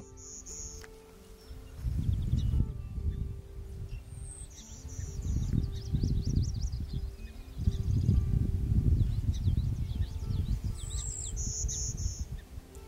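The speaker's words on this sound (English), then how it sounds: "finding the elusive golden-winged warbler" Bird song with insects, outdoors in the Roan Highlands, where the golden-winged warbler is found: high buzzy song phrases and chirps repeat across the clip over a steady low rumble and rustling.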